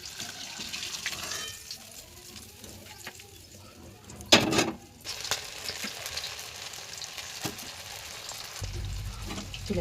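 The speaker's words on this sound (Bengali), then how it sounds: "এইভাবে মাছগুলো একে একে আমরা ভেজে নেব।" Fish pieces frying one by one in hot oil in a pan, a steady soft sizzle with a brief louder burst of spatter midway and clattering near the end, no talking.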